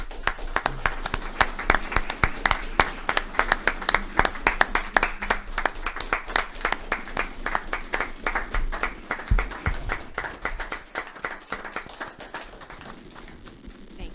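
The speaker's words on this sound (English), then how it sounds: "I would like a round of applause for both of these" Sustained applause from an audience at a city council meeting, a dense patter of many hands clapping steadily for about ten seconds before thinning out and fading near the end.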